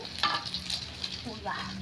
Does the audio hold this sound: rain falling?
no